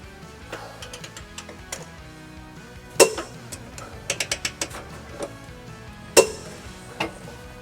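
Bursts of rapid ratchet clicking as an 18mm wrench turns low bolts while fitting a trailer hitch to a 2020 Chevrolet Trax, with a couple of louder metallic clanks between the runs, close and clear.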